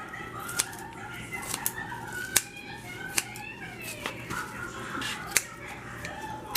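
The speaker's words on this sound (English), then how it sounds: "I'm gonna use some kitchen shears, okay? And just to cut these into fillets" Kitchen shears cut salmon into fillets with a string of crisp, sharp snips at an uneven pace, close up against a low steady background hum.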